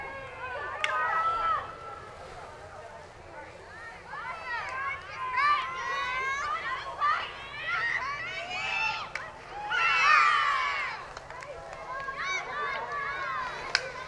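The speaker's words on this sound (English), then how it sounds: "The teammates for the Eagles cheering on their team this entire game, no matter what the big green scoreboard says." Girls' field hockey teammates on the sideline cheer their team, many young voices chanting and calling in bursts over the game, with a commentator talking throughout.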